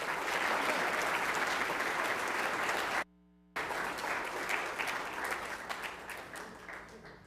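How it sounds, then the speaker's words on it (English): An audience at an Enid Public Schools board meeting breaks into sustained, steady applause that fills the room, briefly cut to silence midway, then resumes and gradually tapers off toward the end. "If you want to give him a hand, a round of applause."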